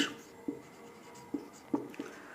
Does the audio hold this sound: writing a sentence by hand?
yes